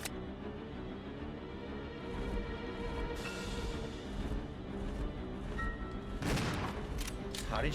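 A Resident Evil 0 character fires at a wall, sharp shots crackling over a busy game soundtrack, with a louder burst near the end.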